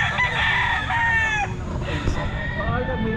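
A rooster crows loudly and close by at a busy pet market, one drawn-out call with other fowl clucking and faint voices in the background.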